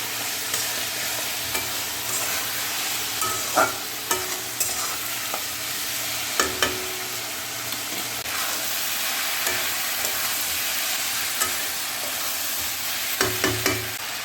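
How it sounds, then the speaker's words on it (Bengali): Sliced ivy gourd sautés with salt and turmeric in a hot pan, a steady low sizzle broken by repeated scraping stir strokes of a spatula, close and alone. "এবার ভালো করে এটাকে একটুখানি কষিয়ে নেব নুন হলুদ দিয়ে।"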